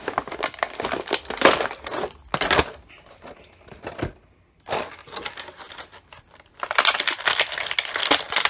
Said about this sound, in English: that, my friends, is how you rip a box